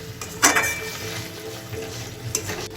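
Ground spice paste with yogurt and salt for shahi egg korma being stirred and fried in a pan, a low sizzle under two sharp clanks of a spoon against the pan, close with no talking.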